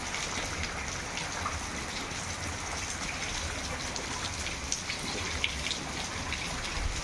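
Steady rain falls in a village setting, a soft, even hiss with scattered faint drips, continuous and fairly quiet throughout, with no voices.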